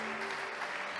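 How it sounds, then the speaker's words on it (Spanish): Brief, steady wash of church congregation applause, soft and somewhat distant, with a faint sustained tone humming beneath the clapping. "Denle un aplauso a la hermana"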